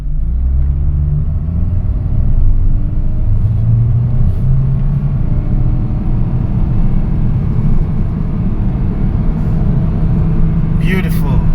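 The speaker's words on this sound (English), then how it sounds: "I just want to do a wide open throttle test, and I'm going to start now." A 2009 Honda Fit engine roars under wide-open throttle during a drive, a loud sustained rumble that climbs in pitch, heard from inside the car.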